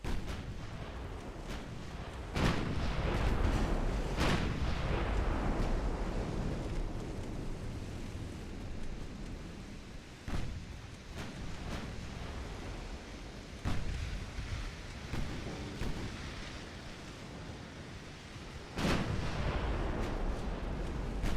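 Battleship main guns fire in the naval warfare game Ultimate Admiral Dreadnoughts, with heavy booms repeating every few seconds over a continuous low rumble of distant gunfire.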